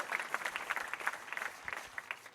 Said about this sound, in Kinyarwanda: Amashyi kwa Yesu benshi cyane.